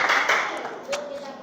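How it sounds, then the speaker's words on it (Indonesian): Brief applause from a classroom audience for a participant during a school guidance counseling session, clapping overlapping with talk and fading quickly. "Tepuk tangan dong untuk temannya."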